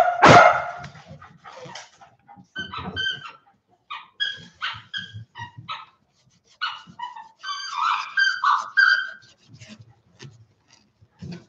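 Indoor dog barking and yipping in short, uneven bursts with whimpers between them, moderately near and clear against a quiet room.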